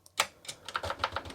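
A quick series of key presses on a vintage Amstrad or TI-99/4A home computer keyboard, about ten sharp clicks in an uneven rhythm, close and fairly quiet.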